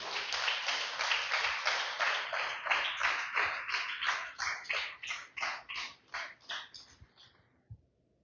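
A church congregation claps in unison for the Lord, a run of about fifteen sharp, rhythmic group claps at a steady beat that gradually soften and fade out, with a final lone clap.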